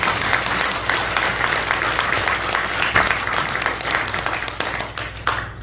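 A church congregation applauds steadily at a pastor's installation service, a dense wash of clapping that holds for several seconds, with a low hum underneath.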